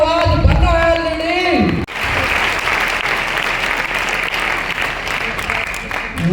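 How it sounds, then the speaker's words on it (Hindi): Loud audience applause at a promotion ceremony, dense clapping from a large crowd that breaks in after a brief stretch of voice and music and continues steadily. "जोरदार तालियां दोस्तों।"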